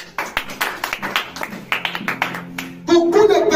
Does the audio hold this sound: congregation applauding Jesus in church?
yes